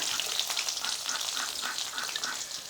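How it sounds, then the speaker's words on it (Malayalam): Chopped small onions fry in a pan with urad dal, the start of a stinging-nettle thoran. The oil gives a dense, even crackle, close and continuous, with no voices over it. "ഇനി നമുക്കിതിൻ്റെ കൂടെ തന്നെ ലേശം ചെറിയ ഉള്ളി അരിഞ്ഞത് ഇട്ട് കൊടുക്കാം"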